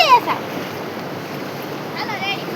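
Floodwater from a swollen river rushing through a village, a steady broadband roar of flowing water with some wind buffeting, loud and continuous.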